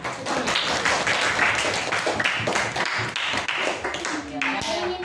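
Group clapping during a teacher coaching session, a steady patter of many hands that continues for several seconds while voices talk over it.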